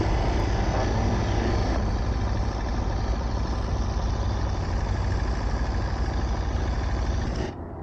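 An Aprilia RSV4 Factory sport bike engine gives a loud, steady, close roar that holds for several seconds and then cuts off abruptly near the end.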